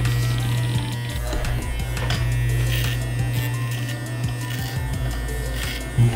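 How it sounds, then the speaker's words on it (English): An electric trimmer buzzes steadily and close while lining up facial hair during a home haircut, a constant hum with small shifts in pitch as the blades move across the skin. "I'm just about finished with this shaving part"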